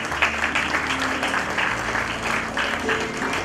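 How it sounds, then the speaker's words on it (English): An audience at an awards function claps steadily and warmly, a dense sustained round of applause from a crowd filling the hall, with faint voices mixed in underneath. "Please give a round of applause,"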